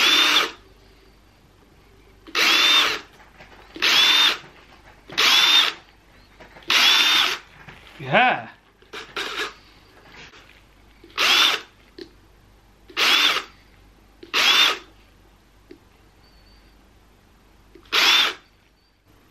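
A power drill whirs in about ten short, loud bursts with brief pauses between, plus a rougher grinding stretch midway, close by, drilling into a pumpkin.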